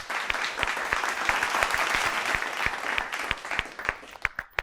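Studio audience applauding the finalists at a television grand finale, a dense steady burst of clapping heard alone that thins out toward the end.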